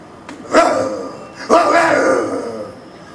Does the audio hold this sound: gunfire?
no